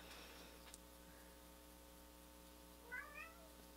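Behind a closed door, a cat gives a short pair of faint, muffled meows, over a steady electrical hum with no talking.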